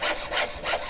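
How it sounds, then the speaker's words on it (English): A hand saw rasps through wood in steady back-and-forth strokes, about three strokes per second, close and fairly loud. "I haven't done any sawing in quite a while."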